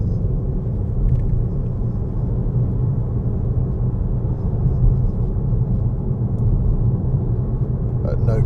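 Interior drone of a car cruising steadily in fourth gear on a road with a slight incline, a continuous low engine and road rumble at even revs that stays loud and unchanging throughout.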